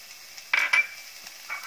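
Spring onions stirred into mushroom fried rice sizzling in a pan over low heat, with two sharp metallic scrapes of a utensil against the pan amid a faint sizzle.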